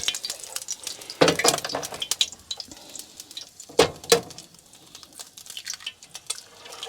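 Eggs fry in a pan, a steady sizzle broken by scraping and clinks of a utensil against the pan, recorded up close in a kitchen.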